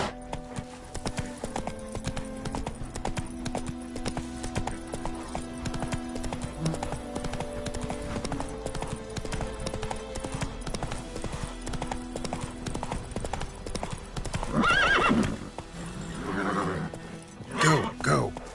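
Hoofbeats of Roach, the horse in The Witcher 3 game, clip-clop at a steady gallop throughout, with a whinny near the end over a busy background of game music and ambience; a voice speaks briefly.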